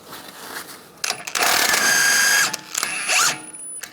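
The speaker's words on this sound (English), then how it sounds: "We're going to remove the tie rod nut, use a 19mm socket." A ratchet with a 19mm socket spins a tie rod nut off a 1998-2010 Volkswagen Beetle during a strut mount and bearing job, making loud, close, rapid metallic clicking in a few sustained runs separated by short pauses.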